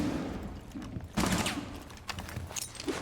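Gunfight in Rainbow Six Siege: a few distinct, fairly faint shot bursts at intervals, the strongest around the middle, over a low murmur of background noise.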